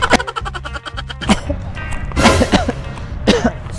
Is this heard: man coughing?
yes